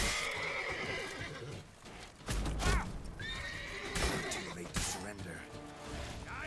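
A horse whinnies loudly in The Witcher 3: Blood and Wine, with clip-clopping hooves and a crash along the way, while a player speaks over the game sounds.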